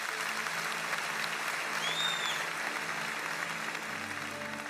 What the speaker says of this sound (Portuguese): Aplauda o nome do Senhor pela vida do Vinão.